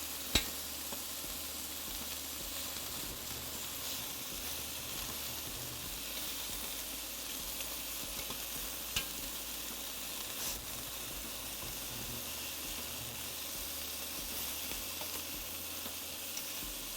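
Pork chunks sear and sizzle in a pan on an induction stove, a steady close hiss of frying fat running throughout with faint scattered pops and clicks of stirring.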